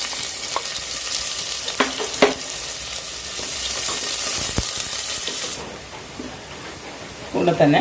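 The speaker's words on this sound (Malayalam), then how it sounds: "അതിലേക്ക് ഒരു പകുതി സവാള ചേർത്ത് കൊടുക്കാം, ചെറുതായി അരിഞ്ഞത്." Finely chopped half onion frying in three to four spoons of oil for fish biryani, a bright close sizzle with occasional stirring clicks, easing later as a voice briefly speaks.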